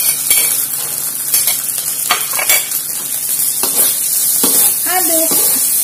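Celery being stirred into a sizzling stir-fry with oyster sauce in a pan, a steady close hiss of frying broken by repeated scraping strokes of the utensil.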